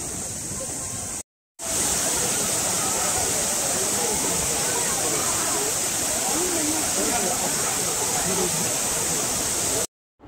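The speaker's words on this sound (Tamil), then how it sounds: "அருவி சத்தம் கேட்குதா?" The Agasthiyar waterfall rushes loudly and steadily, a constant broadband roar broken only by two brief cuts to silence.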